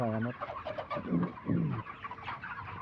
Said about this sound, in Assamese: এয়া চাওক মোৰ নিজৰ ফাৰ্মৰ মুৰ্গী